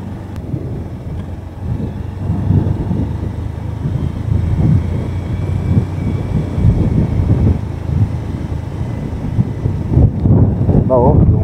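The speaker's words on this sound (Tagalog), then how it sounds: "malakas na yung hangin, oh" Strong wind on a high Philippine mountain, near an elementary school amid fog, roars steadily against the microphone, with low rumbling gusts throughout and voices faintly audible underneath.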